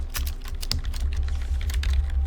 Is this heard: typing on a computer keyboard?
yes